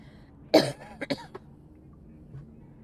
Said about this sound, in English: Hold on, I'm gonna cough again.